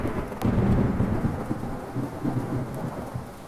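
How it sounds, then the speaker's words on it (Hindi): Heavy rain pouring steadily with a deep rumble of thunder rolling underneath, loud and close, with no voices. "माँ, इतनी तेज बारिश मैंने कभी नहीं देखी।"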